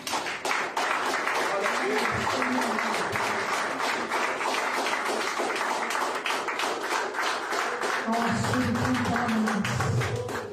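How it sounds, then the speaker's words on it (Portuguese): A church congregation applauding at a Portuguese-language worship service, sustained dense clapping with voices rising over it near the end. "Você pode dar uma salva de palmas."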